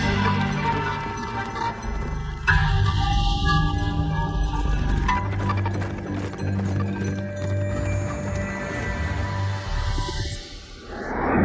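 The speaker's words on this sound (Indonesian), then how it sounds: "Naik kuda." Horse hooves clip-clopping in a steady rhythmic gait, fairly close and continuous, mixed with dramatic background music in a period drama scene.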